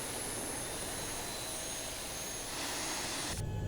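A Boeing 737 MAX jet engine roars in the X-Plane 11 flight simulator. The roar is loud, steady and broadband, and its tone shifts near the end.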